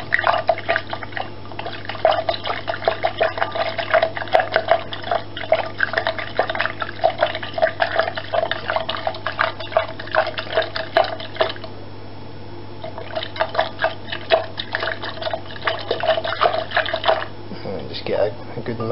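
A wooden spoon swishes yeast around a cup of liquid for blueberry wine, making a rapid, repetitive liquid sloshing and clinking close by, pausing briefly midway before resuming.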